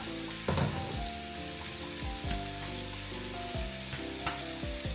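Steady sizzling of glass noodles stir-frying in a hot pan, with scraping stir strokes and clinks from a utensil recurring throughout.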